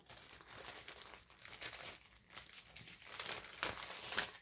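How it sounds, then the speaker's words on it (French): Close, continuous crinkling of a thin plastic or paper gift pouch as it is handled and folded, with irregular louder rustles. "je vais déjà préparer un pochon Véronique"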